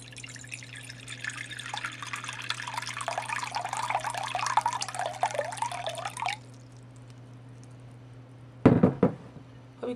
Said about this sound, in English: we're going to pour it into this basin.